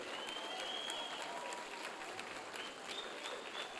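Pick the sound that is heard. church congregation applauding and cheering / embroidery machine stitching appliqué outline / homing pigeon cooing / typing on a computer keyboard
church congregation applauding and cheering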